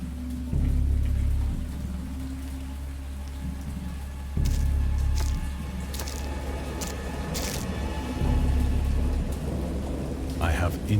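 A thunderstorm in the Dagon video game: steady heavy rain hisses throughout while deep rolling thunder swells several times, with sharp crackling strikes and splashes on top, loud and close.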